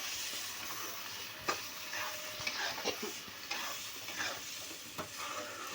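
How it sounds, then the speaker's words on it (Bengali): Soybeans fry in a pan with ginger, garlic and green chilli, a soft steady sizzle broken by scraping stir strokes and occasional clacks of the spoon against the pan, close and fairly quiet. "এবার সয়াবিনটা দিয়ে নাড়িয়ে চাড়িয়ে"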